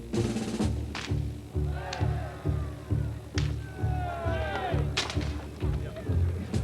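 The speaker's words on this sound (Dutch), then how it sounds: "Hey, de eerste schoten ging goed, hè?" Shots at a schutterij shooting competition, the OLS 1993 in Koningsbosch, ring out as a series of loud, sharp cracks at irregular intervals, set against crowd noise and background chatter.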